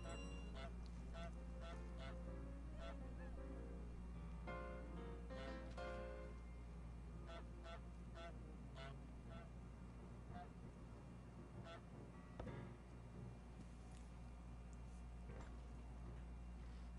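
Honking goose calls from the Untitled Goose Game, a series of nasal honks repeating over a steady background of game music and ambience, moderately loud and without talk.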